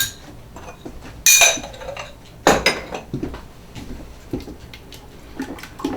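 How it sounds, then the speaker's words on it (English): Homemade spaghetti red sauce is stirred in a pot, with a few sharp metallic clanks of utensil against the pot and softer scraping and sloshing in between, close and fairly loud. "Give it a stir."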